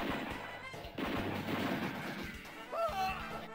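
Gunfire in the video game The Super Spy, a burst of several fairly loud shots spread through the clip over dense game sound, with no talk.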